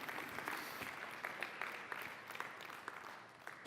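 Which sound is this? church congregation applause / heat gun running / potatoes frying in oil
church congregation applause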